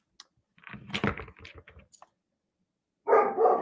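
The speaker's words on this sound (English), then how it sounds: "Yes, he's barking. He's just being a watchdog." A dog barks and yips in a short, irregular burst, close by, then falls silent before a louder, harmonic bark or whine starts again.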